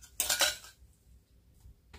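Last fruits dropped into a 1.5 litre glass jar: a quick clatter of clinks and knocks against the glass, then near silence before another faint clink at the end, close and quiet.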